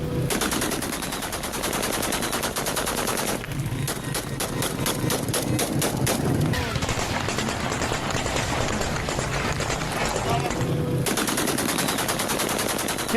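Sustained automatic gunfire as rebels fire in Talbiseh, Syria, in news footage: dense, loud bursts of rapid shots nearly continuous over a steady roar, with brief rhythmic stretches of evenly spaced rounds.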